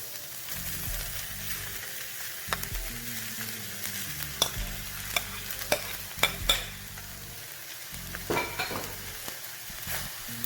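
Cold rice being stir-fried in a hot pan for chicken fried rice, a soft continuous sizzle broken by repeated sharp scraping and tossing clatters from the spatula, no talking.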